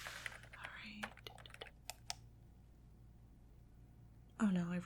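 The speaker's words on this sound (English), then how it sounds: "Type that in here." Quick bursts of close keyboard typing during a medical check-up roleplay, clicking in rapid clusters for about two seconds, then a quiet pause before a soft voice speaks close by at the end.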